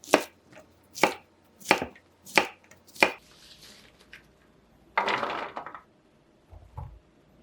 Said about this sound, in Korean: 막대 모양으로 잘라준 다음 깍둑 썰기 해줄게요.